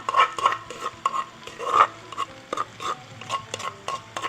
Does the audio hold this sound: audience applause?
no